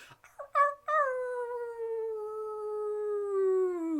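A person imitates a wolf howl with a few short rising yips, then one long sustained howl that slowly falls in pitch, clear and close.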